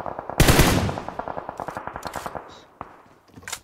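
P90 submachine gun firing in PUBG Mobile, one loud close burst of rapid evenly spaced shots that trails off with echo, followed by a couple of faint clicks.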